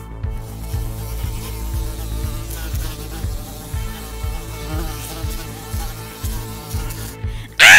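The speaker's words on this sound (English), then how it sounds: "Ow! Ow! You stung me! You evil little bee!" Cartoonish insect buzzing from a bee in the Roblox game Bloxburg, a steady droning hum with repeated rhythmic pulses throughout, no talk, ending in a sudden loud burst.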